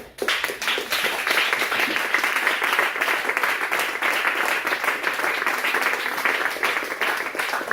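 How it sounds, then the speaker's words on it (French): A church congregation claps together in a dense, steady burst of applause that holds evenly loud for about eight seconds. "Acclamez la parole de Dieu."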